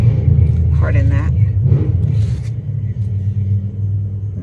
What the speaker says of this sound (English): Very noisy motorcycle.